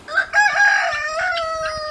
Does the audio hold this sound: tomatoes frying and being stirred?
no